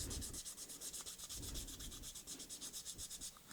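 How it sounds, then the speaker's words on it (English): A 3D-printed part is sanded by hand with 220 grit sandpaper, quick regular back-and-forth strokes giving a close, rhythmic scratchy rasp that continues steadily throughout with no talking. "you could probably cut your sanding time a little bit by going with a little more abrasive paper"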